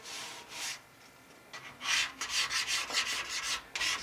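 Fiddle wood being smoothed and thinned with a hand tool in an instrument shop, giving soft rasping strokes in irregular bursts, close and fairly quiet, with pauses between passes.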